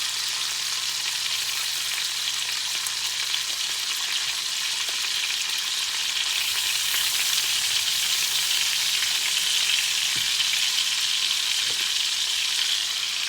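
Pork tenderloin fries in butter in a pan, a continuous close sizzle that rises slightly midway, with occasional faint clicks and stirs.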